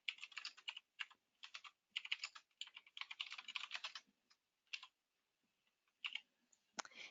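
Fast bursts of keystrokes on a computer keyboard as a request description is typed into a ServiceNow order form, crisp close clicking in short runs separated by brief pauses.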